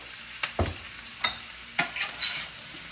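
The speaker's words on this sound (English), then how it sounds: "we're going to put our squash and zucchini and onion in here and saute that" Yellow squash, zucchini and onion sauté in a pan. A faint, soft sizzle sits under a few scattered stirring scrapes and clacks. No voices.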